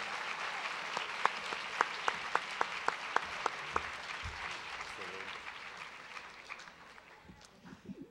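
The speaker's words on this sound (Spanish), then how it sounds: "Un aplauso de nueva cuenta." Audience applause at a design lecture event, steady clapping with a few sharp distinct claps standing out early, fading gradually over several seconds while voices murmur underneath.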